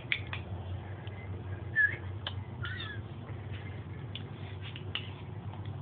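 A pet cat gives a few faint, short meows among scattered small ticking and rustling sounds indoors, with a steady low hum underneath.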